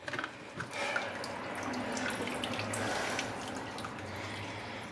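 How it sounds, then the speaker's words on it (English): Water dripping and trickling off the head of a Fluval 307 aquarium filter, a soft, close, continuous splatter of drops and light spatter. "when you undo it, you're going to have some water coming off the head."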